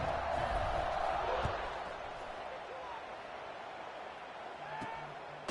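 Stadium crowd noise from a college football video game, a broad roar from a large crowd right after a scoring drive and extra point, swelling loud at first and then settling to a steady background hum, with no talk over it.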